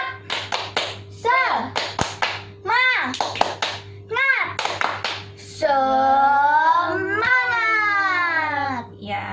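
Young children at a church toddler-to-primary class clap along to a spirit clap chant, a few quick bursts of claps mixed with high childish voices, followed by a long sustained sung or shouted children's tone near the end.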